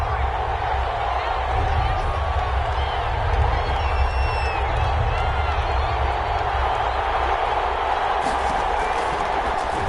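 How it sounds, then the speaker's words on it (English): Stadium crowd noise in the Madden 21 football video game, a steady, loud wash of cheering and murmuring throughout, mixed with ongoing commentary speech. "Crowd getting in it a bit already."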